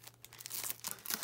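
Crackly crinkling and rustling as a bag holding decorative paper is pulled open, a quick burst of close, uneven crackles and tearing rustles with no talking.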